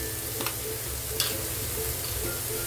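Garlic frying in hot oil with bitter gourd and onion in a pan, a constant close sizzle broken by a few scraping stir strokes, no voices.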